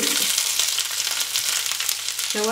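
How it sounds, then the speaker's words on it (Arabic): Onion and green pepper fry in hot oil in a pan for meat shawarma, giving a loud, continuous sizzle that crackles steadily throughout, with a brief ringing tone near the end. "غندير البصله مع الفلفله الخضراء وغادي نقليهم مزيان"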